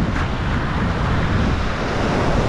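Surf breaking on a beach in Turkey makes a steady, loud wash of rushing water with wind buffeting the microphone, continuous and close throughout.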